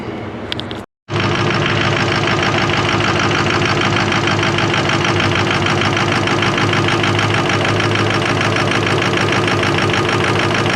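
A 2003 Ford F450 with a 6.0 diesel and freshly replaced fuel injectors gives a brief sound, goes silent for a moment, then fires and settles into a loud, steady idle with a rough, rattling knock.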